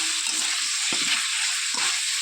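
Cauliflower frying and being stirred in oil in a pan while cooked down for a Bengali curry, a steady close sizzle with a few scraping stirs, no voices.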